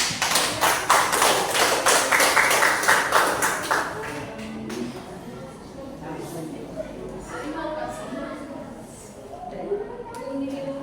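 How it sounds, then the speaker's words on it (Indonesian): Students in a classroom applaud together, a burst of rapid, dense clapping for about four seconds that then fades as a teacher's voice continues. "Oke, tepuk tangan untuk kita semua."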